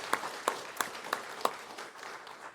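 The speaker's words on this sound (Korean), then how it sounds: "우리 하나님께 영광의 박수 돌리겠습니다." Five sharp, evenly spaced claps from a church congregation on Easter Sunday, fairly faint and sparse, fading into quiet room tone.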